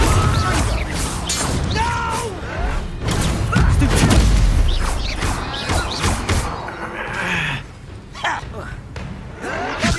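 Confringo fire spell blasts from the Hogwarts Legacy game, a series of loud booming impacts and crashes amid dense battle effects, with a voice shouting spell names over the din.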